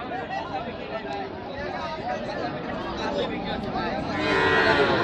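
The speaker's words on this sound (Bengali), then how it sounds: "এক হাঁটু কাদোতে গুরুর অবস্থা দেখেন" Cattle, including Sahiwal bulls and calves, moo repeatedly at a rain-soaked livestock market standing knee-deep in mud. The calls are close and loud over a steady crowd murmur and chatter, growing louder near the end.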